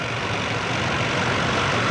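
A vintage tractor engine runs steadily at a steam rally and country fair, a loud, continuous low rumble with a dense, even drone and no pauses or talk.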